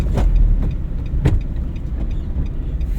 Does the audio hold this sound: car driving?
yes